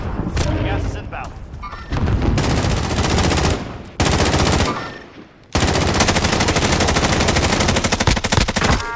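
Dense automatic and single gunfire in the Call of Duty Warzone battle royale game, loud and nearly continuous in bursts with brief gaps, heard alongside players talking.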